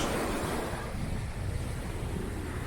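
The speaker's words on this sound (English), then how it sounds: "it's kind of windy and cloudy as well" Steady wind buffets the microphone over a low rumble of surf, a continuous roar at a breezy, cloudy shoreline on Lanas Beach, Carabao Island, Romblon, Philippines, during amihan season.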